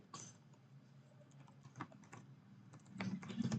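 Code being typed on a computer keyboard, with quiet irregular key clicks and a few firmer taps, close and soft with no talk over it.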